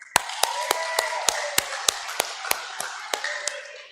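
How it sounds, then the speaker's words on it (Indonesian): Sharp, evenly spaced claps from a church congregation during a Sunday service, about a dozen loud hits in a steady rhythm over a diffuse room murmur. "Tepuk tangan sekuat-kuatnya."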